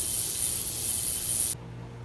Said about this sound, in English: the chain is going to go into the ultrasonic for a little while.